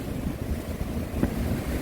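Large ocean waves surge and break near Yeongeumjeong beside Dongmyeong harbor, a steady rushing wash with gusty wind noise over the microphone and no talk.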